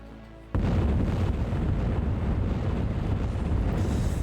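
Explosions in the shooter Rise of the Triad: a sudden loud blast breaks in after a brief quieter bed, then a sustained roaring, rumbling wash of detonations carries on without letup, with no talking.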